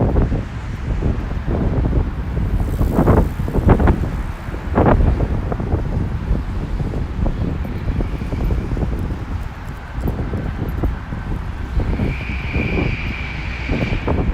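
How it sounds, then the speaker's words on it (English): A truck rumbling past on a wide bridge in New York City, a loud low roar with wind buffeting the microphone and traffic noise throughout, swelling and fading without any talking. "Hear that truck going over there."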